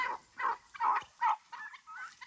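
A small group of chickens roams a yard near a horse pen, making a run of short, close clucks and murmuring calls at an uneven rhythm with no talk.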